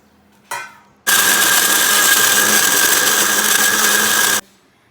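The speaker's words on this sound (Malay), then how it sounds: "lepas tu blender sehingga sebati ya" Electric blender pureeing onions and spices with a little water, a short buzz at first, then a loud steady whir running alone for about three seconds before cutting off abruptly.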